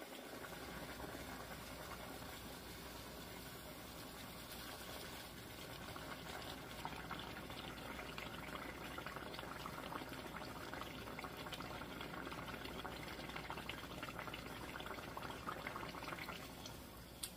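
A puffy taco shell fries in hot oil, held down in the middle, giving a steady, dense, close crackling sizzle that runs unbroken throughout.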